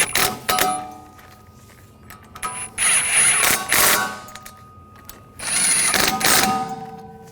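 A ratchet snugs down the bolts on a Buick Encore rear wheel hub, quick clicking bursts with pauses between them, close by, joined by brief metallic squeaks and tool handling.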